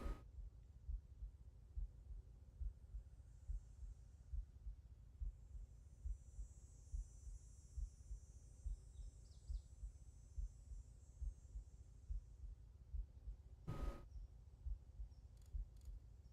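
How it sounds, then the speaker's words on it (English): Low-health heartbeat in Halo 1, a steady, regular throb of soft low thumps repeating under a game hum with a faint high insect-like drone, one brief sharp click partway through. "If you have red health, you can hear your heartbeat in this game"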